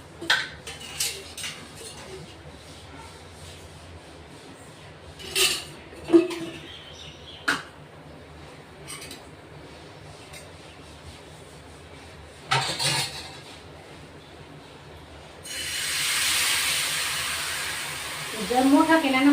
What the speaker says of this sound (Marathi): तर थोडं तेल सोडून घेऊ.